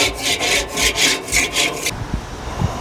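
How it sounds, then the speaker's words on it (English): A scraper is pushed back and forth across gas grill grates in about six loud, rhythmic rasping strokes, then stops, leaving a few light knocks. "I'm gonna just go ahead and scrape it down with this scraper that I got."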